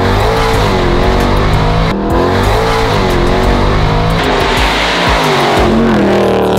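A Jeep Trackhawk engine revs loud and close, a sustained roar that climbs and falls in pitch through several throttle blips, with a brief dip near the two-second mark and no talking.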